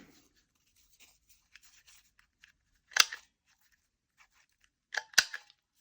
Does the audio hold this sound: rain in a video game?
no